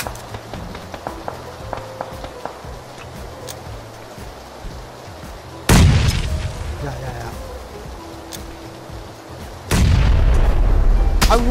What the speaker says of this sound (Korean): 수류탄 수류탄 수류탄